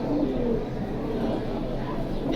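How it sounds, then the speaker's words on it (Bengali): Pigeons cooing close by in a low, continuous murmuring burble, with a faint voice underneath. "ডাউন শেপের কবুতর, ডাউন শেপ।"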